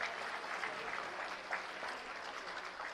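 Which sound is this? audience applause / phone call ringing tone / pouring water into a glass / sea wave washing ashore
audience applause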